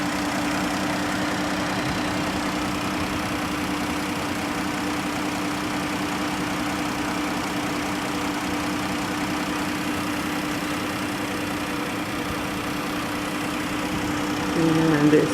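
A 2015 Dodge Grand Caravan SXT minivan engine idles with a steady, smooth hum and a low tonal drone, unchanging throughout and moderately close, with a slight rise in noise right at the end.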